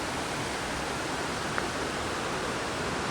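Overflow water rushing past a notched fallen log near a waterfall: a steady, loud, broadband hiss of flowing water with no breaks and a single faint click partway through.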